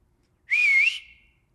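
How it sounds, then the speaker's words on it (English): A person whistles one clear, steady note lasting about half a second that wavers slightly, bends upward at the end and then fades, close and alone in quiet. "And then I tried whistling, like what I think is normal whistling"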